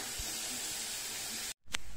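Dry Polish pasta sizzling and hissing in a frying pan, a steady close frying crackle with brief low thumps, cut by a short silence before a final burst.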